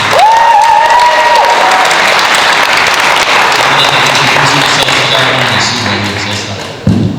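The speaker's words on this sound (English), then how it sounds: "Give them a round of applause." Loud convention panel audience applause for Power Rangers Megaforce cast fills the space, steady clapping with some cheering mixed in, tapering slightly near the end before a sharp thump.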